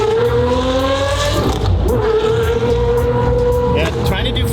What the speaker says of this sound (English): Yeah, trying to do fast shifts,